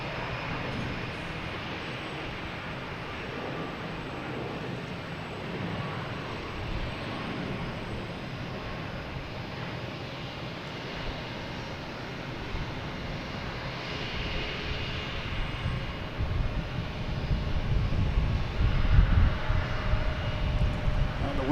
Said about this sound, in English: We got Alaskan Airlines here heading to Portland.